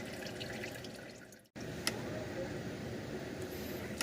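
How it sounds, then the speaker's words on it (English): Old engine oil mixed with engine flush draining out of a car engine into a pan, a steady close trickle and splash that runs continuously apart from one brief break. "Want to get all that old oil and engine flush out of there."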